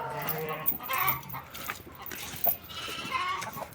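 Several lambs bleating in short, overlapping calls at close range, with a noisy barn-like background.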